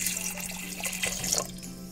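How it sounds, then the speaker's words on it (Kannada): About two glasses of water are poured into a pressure cooker holding mashed dal for drumstick rasam. The splashing runs steadily for a couple of seconds, close and moderately loud, with no talking. "ಇದಕ್ಕೆ ಇವಾಗ 2 ಗ್ಲಾಸ್ ಅಷ್ಟು ನೀರು ಹಾಕಿ"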